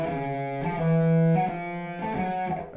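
Distorted electric guitar notes played in an uneven long-short pattern, sustained tones alternating with shorter ones, loud and close.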